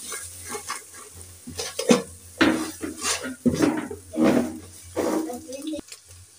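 Noodle ingredients seasoned with salt and chili powder are stirred together in a bowl for homemade flour noodles, giving a string of close, uneven scraping and clinking strokes.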